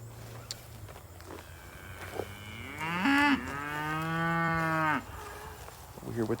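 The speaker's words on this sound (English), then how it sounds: "We're here with the cows this morning." Cows moo on a lease farm where Hereford-cross cattle and calves are kept, one long, loud nearby bellow rising and holding for about two seconds over quieter farm background.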